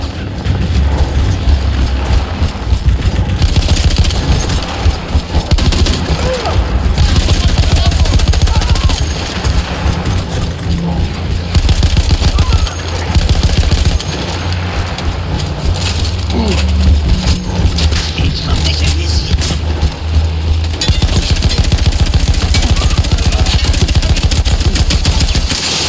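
Sustained gunfire from a captured machine gun in a WWI video game on the Italian front, rattling on loudly and continuously for the whole stretch amid booms, with a voice talking over parts of it.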